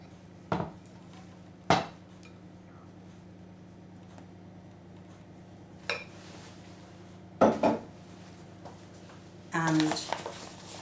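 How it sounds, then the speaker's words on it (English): Scone dough being scraped out of a mixing bowl onto a floured board, heard as a handful of sharp, separate scrapes and knocks of a utensil against the bowl over a steady background hum, with a voice talking in between. "And we'll scrape out the bowl."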